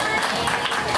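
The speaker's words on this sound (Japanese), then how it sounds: "皆様もう一度大きな拍手お願いいたします。" Party guests at an entertainment segment applauding together, a continuous hiss of many clapping hands filling the short moment, with talk mixed in.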